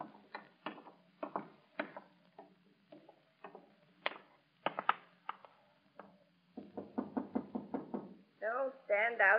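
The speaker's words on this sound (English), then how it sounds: "Stand out there and knock." Knocking on a door in an old radio drama: several separate series of sharp, close knocks, irregular at first and then a quick run of raps, followed by a voice at the end.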